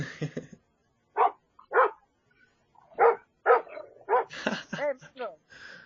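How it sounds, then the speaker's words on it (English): Several sharp dog barks and yips in short bursts, mixed with nearby voices talking. "Sorry, the dogs are coming through because."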